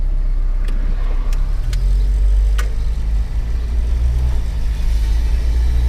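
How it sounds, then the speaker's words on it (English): A used car's engine idling with a low, steady rumble, close and constant, with a few faint clicks on top and no speech. "Let's start the car up."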